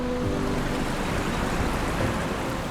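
Water runs steadily over a hidden teacup waterfall among rocks still capped with snow, a continuous, fairly loud broadband rush with no pauses.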